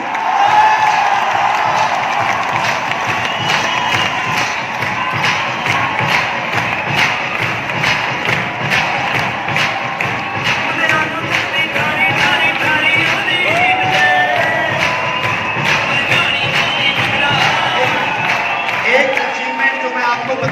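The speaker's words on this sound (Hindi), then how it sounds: "तो आप लोगों की जोरदार तालियों में स्वागत करने जा रहा हूं मिस्टर गुरसिमरन सिंह।" Audience clapping and cheering to welcome a speaker at a talk, a sustained crowd roar with rapid claps throughout and voices mixed in.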